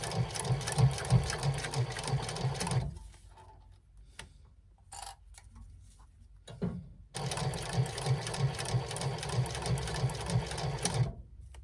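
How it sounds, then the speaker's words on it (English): A sewing machine top-stitches along the edge of a fabric wristlet in two steady rattling runs, one at the start and one at the end, with a quiet pause of faint clicks between them. "I'm going to start top stitching on one edge."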